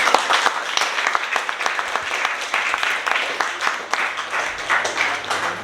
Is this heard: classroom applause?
yes